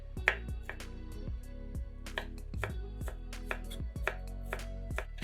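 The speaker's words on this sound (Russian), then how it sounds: "200 грамм ветчины нарезаем небольшими кубиками." A knife chops ham into small cubes on a cutting board, with steady, close, crisp thuds in an even rhythm and no talking.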